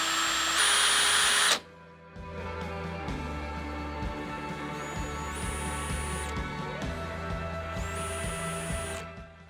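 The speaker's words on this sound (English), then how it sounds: "the trigger is what's used to actually make the drill spin" A power drill whirs loudly in a short burst, then spins steadily at a lower pitch with pulsing changes in speed, close to the microphone.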